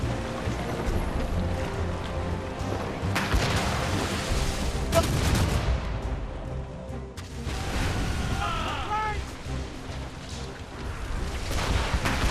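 Ship cannons fire in a naval battle in the video game Assassin's Creed Rogue, heavy booming volleys breaking through constant wind and sea noise, with crew voices calling out amid the combat.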